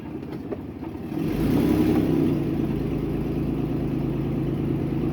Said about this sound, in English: Sounds a little meaner. My exhaust is kind of hanging there.